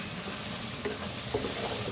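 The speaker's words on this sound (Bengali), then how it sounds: "এটাকে আমি ভালোভাবে একটু 5 মিনিট নেড়ে চেড়ে নেবো" Cumin powder, garam masala and coriander powder fry in a pan for chicken shahi korma, giving a low, steady sizzle with faint scraping from stirring throughout.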